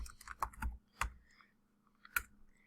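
Fingers typing on a computer keyboard into a Google Sheets cell, a few soft scattered key clicks, quiet and close.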